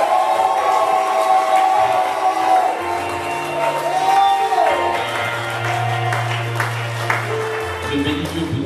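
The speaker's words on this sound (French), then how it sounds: "Est-ce qu'on peut pousser des cris de joie?" A church congregation at an evangelical seminary shouts and whoops with joy, a dense crowd roar that carries on steadily. Sustained tones from a keyboard or organ rise and fall underneath, and voices call out.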